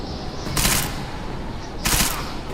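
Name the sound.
gunfire in a video game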